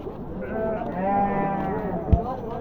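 Sheep at a livestock market bleating in a long, wavering cry up close, ending in a short thump, while people talk nearby.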